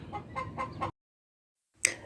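A rooster gives several soft, close clucks in quick succession, followed by a pause and one brief, sharper call.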